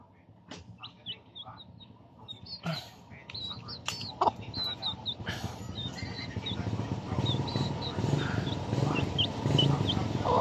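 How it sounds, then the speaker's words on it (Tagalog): Pet baby chicks peeping, a series of thin high cheeps scattered throughout, close and fairly clear, over a rustling, shuffling background with occasional knocks. "pinakita ko na yung alaga ko na sisiw."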